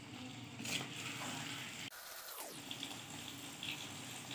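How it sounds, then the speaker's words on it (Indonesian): Water pours steadily into a pan of chicken rendang during cooking, a continuous splashing rush that shifts partway through as the flow changes, close and moderately quiet. "Tambahkan air sedikit."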